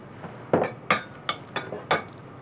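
A metal spoon taps against a dish five times in quick, uneven succession, each clink bright and close in a quiet kitchen while squash muffin batter is prepared.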